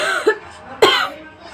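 A person coughs twice, two sharp, close, raspy bursts about half a second apart, each trailing off with a breathy tail.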